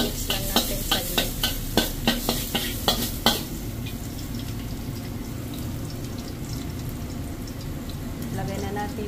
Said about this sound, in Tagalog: Lagyan na yung bawang at luya. Mix lang natin saglit.